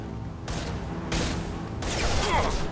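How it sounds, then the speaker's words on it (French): Pump shotgun fire in Mass Effect 2, three heavy blasts roughly a second apart, each a broad loud burst, with a battle-noise tail after the last. "C'est un fusil à pompe."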